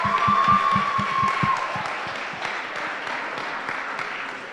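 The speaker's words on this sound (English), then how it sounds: "Please give them a round of applause" A crowd at a Jamaica youth tourism summit gives a scattered round of applause, with a few sharp claps early and a faint tone fading out.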